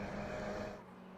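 Race cars howl along the Cadwell Park circuit, a steady engine drone that fades as they pull away, with no talk over it.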